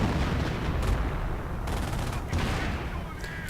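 StuG 42 assault guns firing in a WWII strategy game match, a dense, continuous rumble of distant gunfire and explosions layered together at steady loudness throughout, with no clear separate shots standing out.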